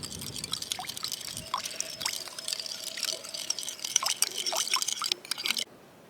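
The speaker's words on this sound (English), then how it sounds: "After you put all the ingredients into this bowl, you just mix it." A spoon stirs soy sauce and other ingredients in a bowl, making quiet wet clinks, scrapes and sloshing in short uneven strokes, then stopping abruptly.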